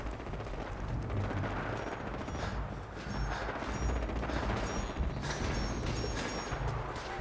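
Dense, continuous gunfire and explosions from Fallout 4, including shots from the Deliverer pistol, fill the mix loudly and steadily with no pauses.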